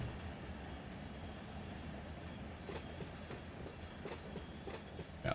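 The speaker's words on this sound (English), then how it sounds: "I hear the brakes starting to engage." Train brakes engaging on loaded cars in Run 8 Train Simulator while running the LS910J local, a steady rumbling roll of wagons with faint metallic squeals and clicks rising near the end.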